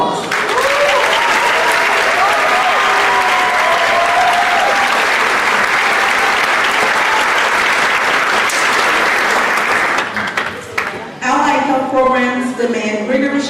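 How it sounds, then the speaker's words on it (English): Loud, dense applause rises for Allied Health Professions faculty at a health professions pinning ceremony, sustained for about ten seconds before thinning out as a voice begins speaking over the tail. "As they stand, let's give them a round of applause."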